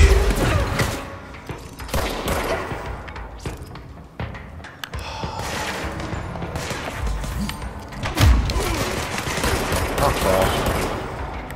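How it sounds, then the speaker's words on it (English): Gunfire in the video game Control, sustained rapid bursts and heavy thumps that keep going throughout, loud and close, with crashing impacts mixed in. "Kids shooting at me."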